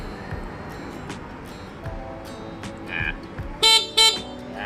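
Two short, loud horn blasts from a Yamaha TZR motorcycle sound near the end, over steady background noise and faint talk.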